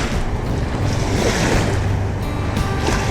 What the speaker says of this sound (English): a boat just went by, so now there's waves